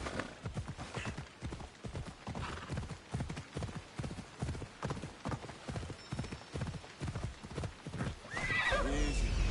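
A horse in Assassin's Creed Odyssey gallops in a fast, even clip-clop of hoofbeats lasting several seconds, then gives a loud neigh near the end.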